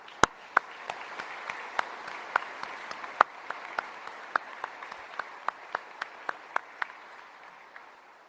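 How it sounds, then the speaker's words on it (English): An audience applauds U.S. Southern Command at a leadership transition ceremony, a steady wash of clapping with sharper individual claps standing out for several seconds. "Let's give Southcom a round of applause"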